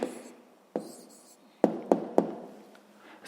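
Pen strokes and sharp taps on paper while an answer to a sixth-grade maths problem is written down: a few separate knocking contacts spaced apart, close and fairly clear against a quiet room.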